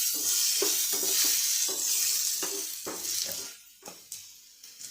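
Crushed ginger and garlic frying in a pan for a Bengali green pea ghugni, a steady loud sizzle broken by repeated stirring scrapes and clinks that fade as the sizzle dies down.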